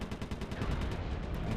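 Rapid gunshots from the video game Sly 3: Honour Among Thieves come in a quick, evenly spaced burst of sharp reports that stay loud and close through the whole short stretch.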